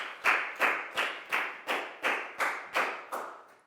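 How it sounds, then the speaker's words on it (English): A classroom of children claps in unison for a classmate, about ten sharp, evenly spaced claps in a steady rhythm, close and fairly loud, with no talking. "Big round of applause for Pak Bung"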